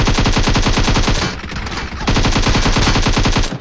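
Automatic rifle gunfire in the video game PUBG rattles in rapid, loud sustained bursts, a brief pause in the middle, then another long burst with no talk over it.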